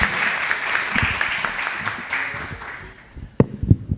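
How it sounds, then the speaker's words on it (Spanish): An audience applauds to welcome a speaker at an education-focused academic event, a dense wash of clapping that gradually thins out, ending with a few louder, closer handling knocks. "les damos una bienvenida con un aplauso"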